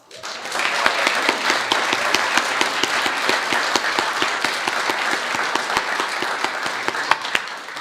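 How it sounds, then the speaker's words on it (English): A congregation at a Unity Spiritual Center service applauds Reverend Bonnie with steady, dense clapping that swells quickly and holds evenly loud for the full stretch, a few sharper claps standing out near the end. "Let's just give Reverend Bonnie a round of applause"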